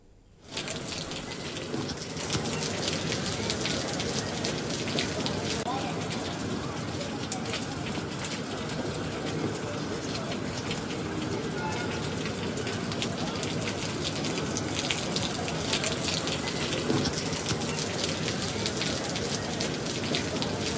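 Heavy rain pours down in Guntur district, a dense, loud, continuous hiss of drops striking surfaces that holds steady from start to finish.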